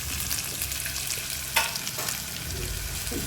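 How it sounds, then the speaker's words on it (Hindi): Boiled basmati rice stirred into a pot of Kolkata-style chicken biryani: a steady low background hiss with a few brief scraping clinks of the spoon, close up and without speech. "इसको थोड़ा सा हम हिला देते हैं इससे"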